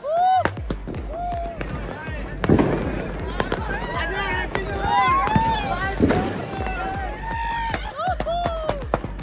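New Year fireworks in Nagaland burst repeatedly from all around, sharp bangs mixed with whistling rockets rising, loud and continuous, with a crowd and voices underneath.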